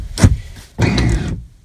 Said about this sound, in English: you heard the close locking door